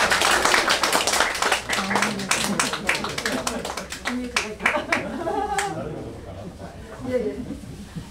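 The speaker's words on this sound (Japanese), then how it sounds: "拍手。" Audience clapping as a guest arrives at a Japanese rakugo-style variety show, a burst of many hands applauding that thins out over several seconds, with speech overlapping.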